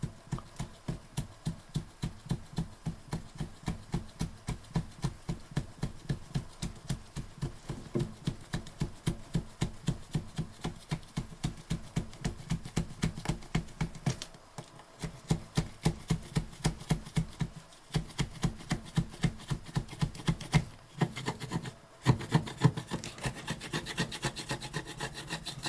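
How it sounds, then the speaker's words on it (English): Magenta plastic scraper blade scraping glue off glass sprayed with isopropyl alcohol: a steady run of rapid, rhythmic rasping strokes, close and fairly quiet, with a few brief pauses. "I have here the magenta colored blade. I've sprayed isopropyl alcohol on these two patches and we'll start scraping."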